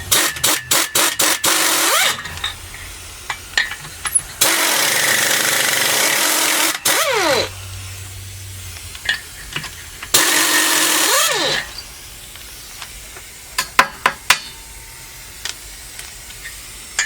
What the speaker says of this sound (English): Love the sound of two-stroke cylinder heads.